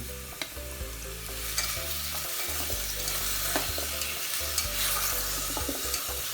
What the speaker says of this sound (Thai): แล้วผมจะใส่หมูลงไปผัดนี้ ใส่หอมใหญ่ มะเขือเทศ แครอท